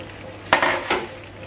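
Jollof rice being stirred in a pot, two short scraping, sizzling strokes close by, with no talk.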